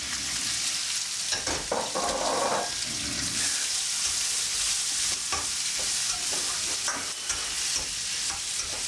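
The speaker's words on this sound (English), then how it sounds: "Get that steaming, all that sizzle." Food stir-fried in a pan with sweet and sour sauce, a loud steady sizzle with scraping stirs and brief clatters throughout, close and without speech.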